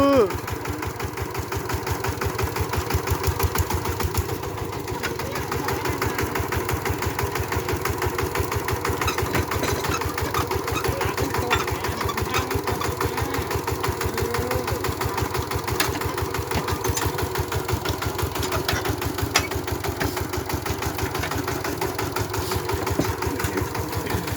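An e-taek, a small farm vehicle, idles with a steady, fast-ticking engine chug that holds constant and moderately loud throughout, with voices talking over it now and then.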